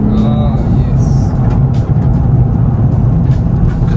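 A Nissan 350Z drives along scenic roads with a loud, steady engine drone heard from inside the cabin, with a brief dip in sound near the middle that may be a gear change, while a person talks.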